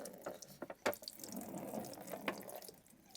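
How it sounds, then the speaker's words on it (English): Water splashing and trickling into the bottom of a plastic box used as a mini greenhouse for rhododendron cuttings, with a few sharp drips and sloshes at close range. "And I might even put a bit of water in the bottom"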